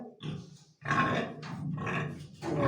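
Two sows grunting in a farm pen, close and fairly loud, with a short grunt followed by longer rumbling grunts in a quick, uneven series.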